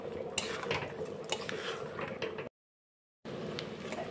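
Chickpea dal, rice, onion, garlic and ginger stirred in oil in a pot, close scraping and clinking of a spoon against metal in quick irregular strokes, briefly cut to silence before resuming.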